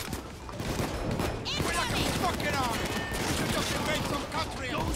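Continuous gunfire in the Payday 2 heist video game, a dense, steady clatter of shots throughout, with people talking over it.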